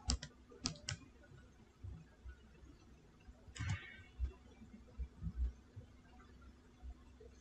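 Fingers tap on a computer keyboard while typing into a web browser's search bar, a few quick sharp keystroke clicks followed by sparse, faint taps in a quiet room.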